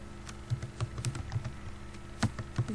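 Typing on a computer keyboard: a steady series of close, distinct key clicks and thocks in an uneven rhythm, with no talking.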